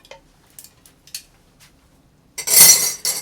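A few light clinks and taps, then a loud clattering rush of ice cubes tumbling into a container, close up, with one last clatter after.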